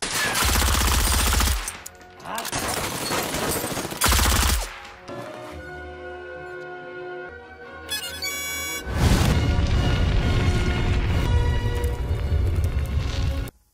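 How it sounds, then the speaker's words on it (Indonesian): Bursts of rapid gunfire alternate with loud blasts and a sudden explosion of a car loaded with gas cylinders, separated by quieter stretches of tense rumble and clatter. "sebuah mobil berisi tabung gas meledak dalam sekejap mata membuat benteng Antonio porak-poranda"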